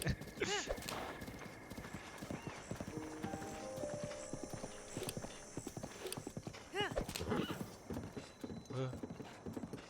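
Horse hooves clip-clopping with repeated neighs and whinnies in Zelda Breath of the Wild, steady galloping rhythm with bright game chimes layered over it.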